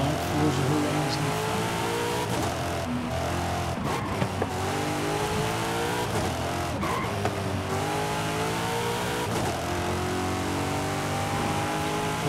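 Race cars in Forza Horizon 5 roar continuously, their engines revving and rising through gears with occasional tire squeal, a steady loud in-game engine mix with no talk.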